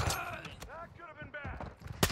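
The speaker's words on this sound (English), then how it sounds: "I'm taking fire!" Gunfire from a Call of Duty: Modern Warfare 2 multiplayer match, several sharp shot bursts at the start and end, mixed with excited talk from a player.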